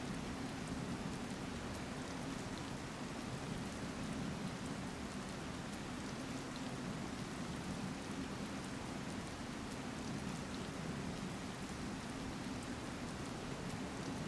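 Ambient rain in The Legend of Zelda: Tears of the Kingdom falls in an even, continuous hiss, soft and unbroken, with no voices over it.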